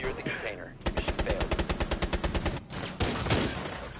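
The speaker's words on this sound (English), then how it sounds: "They're just shooting." Sustained machine-gun fire in the shooter game Squad, a rapid even burst of shots lasting nearly two seconds, followed by a few more loud reports, with voices talking around it.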